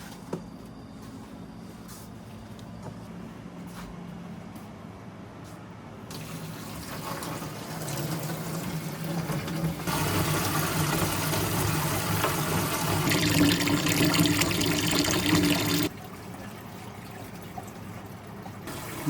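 Running water rinsing freshly caught Etsu fish to wash off excess oil, a steady splashing flow that swells louder midway and stays continuous before easing off.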